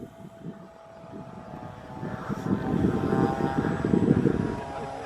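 Radio-controlled B-52 bomber model driven by two quadcopter outrunner motors, a soft airy drone that grows louder as it passes over an RC flying field.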